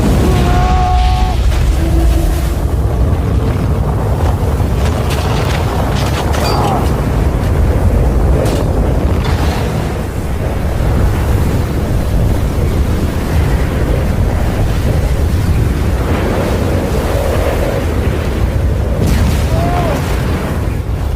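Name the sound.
sandworm riding scene sound effects from film Dune Part Two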